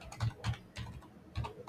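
Typing on a computer keyboard while entering figures into an Excel spreadsheet, a close run of soft, uneven key clicks with a short pause partway through.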